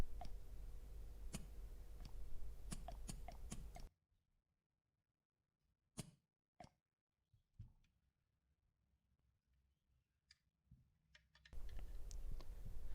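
An HPA-powered bullpup Super Core blaster test-fires in a series of sharp, close mechanical clicks at irregular intervals, separated by near-silence, with a louder humming background at the start and end.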